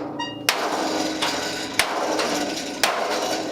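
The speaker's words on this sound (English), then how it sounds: "By using this 2-pound hammer, I'm able to" Three sharp metallic strikes of a 2-pound hammer forming a metal wheelbarrow bin, spaced irregularly, ringing briefly over a steady background hiss; close and fairly loud.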